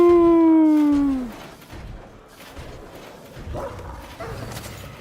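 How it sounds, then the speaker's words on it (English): A dog in the video game Wolfenstein: The Old Blood lets out a drawn-out, falling whine or howl, loud and near for about a second. Quieter game ambience and faint rustling follow. "Bad dog."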